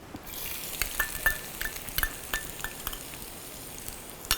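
Minced garlic cloves frying in vegetable oil for pink sauce chicken pasta, giving a steady soft sizzle with scattered light clinks and scrapes of a spoon against the pan, no voices.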